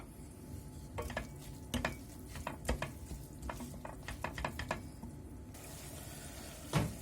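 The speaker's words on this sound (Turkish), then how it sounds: "soğanımızı doğradık ve zeytinyağı ile beraber kavurmaya başladık" Clattering stirs and scrapes of a utensil in a pan over a steady low sizzle of onions in olive oil, with several sharp metallic clinks spread through.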